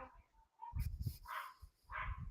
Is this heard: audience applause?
no